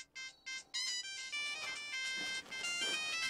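A mobile phone rings with a melodic ringtone from an unknown number, a bright tune repeating loud and close for a few seconds, no one speaking over it.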